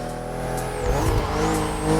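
A BMW CSL car accelerating hard, a steady loud engine drone with rising and falling whine as it revs, close and continuous with no talking.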